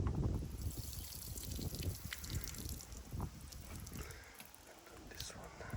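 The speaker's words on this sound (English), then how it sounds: "let's pour water on this one." Water poured over bricks laid for a cabin foundation outdoors, a continuous splashing trickle that runs throughout at a fairly low level.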